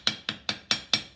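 A ball peen hammer taps a metal coffee scoop bowl to dap it into shape, five crisp, evenly spaced metallic strikes close up with short ringing decays.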